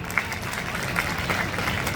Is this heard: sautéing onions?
no